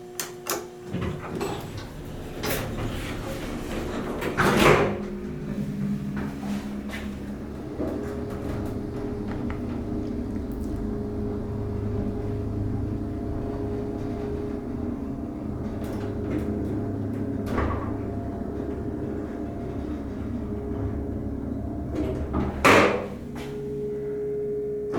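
A hydraulic elevator motor at Erikson Hall, University of Kentucky, hums steadily and loudly throughout, with heavy clunks from the doors opening or closing near the start and again near the end.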